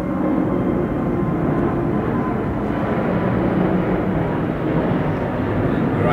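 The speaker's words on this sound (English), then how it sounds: "we get aeroplanes flying over" Steady loud roar of an aeroplane passing overhead beneath a flight path, a continuous broad rumble filling the whole stretch.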